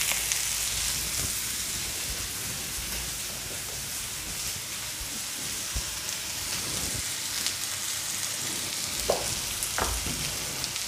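Onions and green chillies fry steadily in a pan over a medium flame, a continuous close sizzle with soft crackles and an occasional clink of stirring, no voices.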